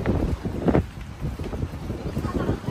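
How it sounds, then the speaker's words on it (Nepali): Strong outdoor wind buffets the microphone in uneven, roaring gusts that surge and ease, with rumbling bursts and no clear talk. "सो हावा यस्तो वाइल्डली चलिरहेछ"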